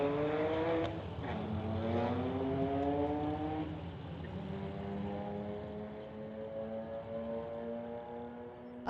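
Street-legal drag race between a Mustang and a BMW, with loud engines revving and accelerating in rising harmonic sweeps, one car's drone carrying through the whole run as the other climbs through gears.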